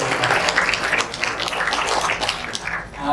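An audience at a hospital ceremony marking bone marrow transplant milestones breaks into sustained applause, a dense, steady wash of many hands clapping throughout.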